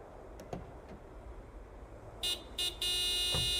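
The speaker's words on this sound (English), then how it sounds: "Nico, could you honk the horn again?" A car horn honks in Broken Sword 5: The Serpent's Curse, with two short toots and then a longer sustained blast after a quiet stretch with faint knocks.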